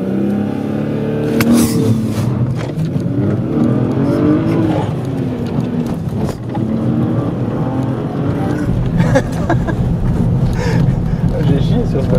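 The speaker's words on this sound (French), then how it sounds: "je vais vous montrer la sonorité que ça fait en intérieur. Allez, on se refait un petit départ arrêté avec ESP à fond" A BMW 330i fitted with an Ulter Sport exhaust pulls away from a standstill, heard from inside the cabin as a loud, rising engine drone with a gear change, while someone talks over it.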